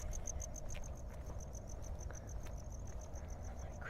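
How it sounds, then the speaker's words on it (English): Crickets chirp at night in a fast, steady pulsing trill, close and continuous over a low background rumble of the city, with no one speaking. "Crickets around, singing their songs in the night."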